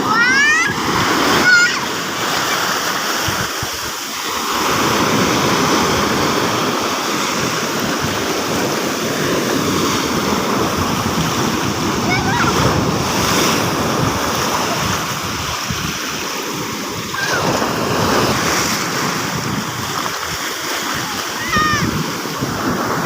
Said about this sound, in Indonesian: Awas kakak, ombaknya besar.